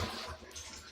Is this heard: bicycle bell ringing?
no